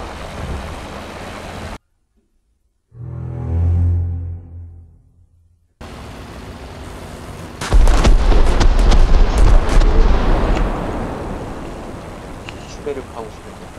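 An Sd.Kfz.251/21 halftrack fires its guns in a video game. A deep rumbling boom is followed later by a dense, loud run of rapid automatic fire lasting several seconds, over a constant engine background.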